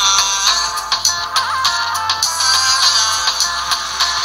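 Music playing through the small built-in speaker of a budget smartwatch, thin and bright with little bass, a repeating tinny melody with rhythmic pulses.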